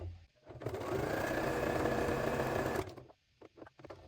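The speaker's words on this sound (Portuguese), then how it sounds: "Começar uns pontinhos pra frente, retrocesso e sigo aqui." A sewing machine stitches fabric in one fast, steady whirring run of about two seconds, followed by a few short, quiet reverse bursts.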